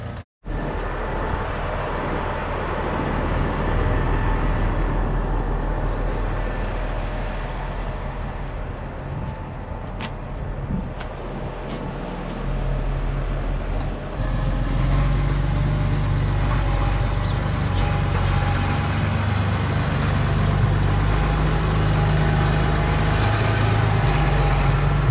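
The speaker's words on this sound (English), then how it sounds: "A cat engine up front, which will be very reliable." Farm tractor with a Caterpillar diesel engine idling, a steady low rumble that holds at constant loudness throughout, close and without talk.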